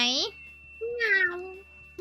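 A Minecraft cat gives a few short, high meows close by, one brief cry followed by a longer drawn-out mew and a clipped start of another, with little else around.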